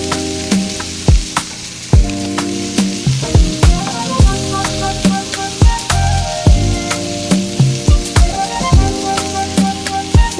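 Salmon and shrimp fry in a pan with a steady, close sizzle, and a backing musical beat with regular sharp hits plays throughout.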